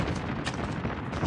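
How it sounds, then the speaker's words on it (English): A single booming gunshot from the Call of Duty Mobile video game, broad and loud with a short rumbling tail, heard alone without talk. "A gunshot."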